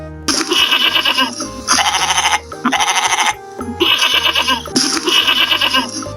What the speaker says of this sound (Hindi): GOAT, गोट। गोट मीन्स बकरी।